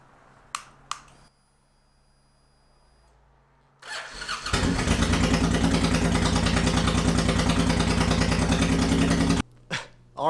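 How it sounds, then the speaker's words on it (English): A 2005 Honda VTX V-twin motorcycle with 4,600 miles, first start in ten years: a few clicks, a pause, the starter cranking, then the engine catches and settles into a loud, steady rumbling idle before cutting off. "Let's start it up."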